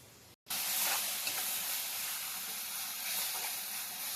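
Chopped ivy gourd sizzles steadily in a hot pan after tempering, following a brief cut, with a spatula stirring and scraping now and then, close and continuous.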